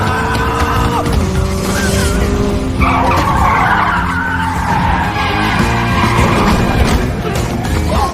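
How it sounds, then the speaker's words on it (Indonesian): Car tires screech in a long skid as the car spins in a film scene, loud and continuous, with engine noise underneath and the squeal shifting in pitch partway through. "Jin Tai dengan gesit memutar setir mobil yang membuat mobil berputar melewati si anak kecil"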